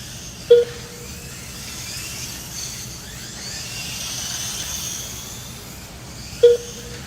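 Mini-Z RC cars race a fast qualifying run on an indoor track, their high electric whine steady in the background, with two short sharp beeps near the start and end.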